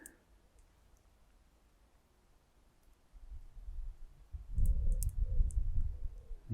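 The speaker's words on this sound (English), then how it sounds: "You can hear them pods cracking." Dry seed pods crack and snap outdoors on a hot summer day: faint scattered clicks at first, then a denser burst of popping close by toward the end, with no talk.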